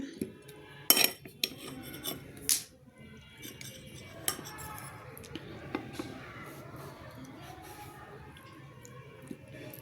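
Metal cutlery scraping and clinking against a plate during a homemade Chinese-style dinner of vegetables and chicken, a few sharp close clinks early then softer sporadic taps over quiet room tone.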